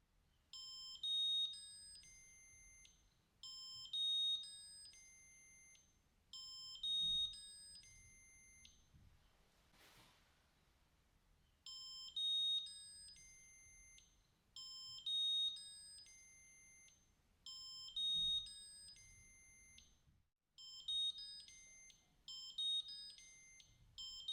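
Full-level alarm of a Durr VSA300 amalgam separator in a dental surgery: repeated bursts of bright electronic beeping in regular groups, with a brief pause partway through and a low background hum.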